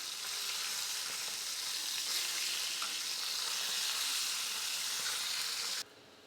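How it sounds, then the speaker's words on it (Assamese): Pieces of motor fish fry in hot mustard oil, giving a steady, close, dense sizzle for about six seconds before it suddenly drops to a much quieter hiss. "মাছকেইটা ভাজিবলৈ লৈছোঁ।"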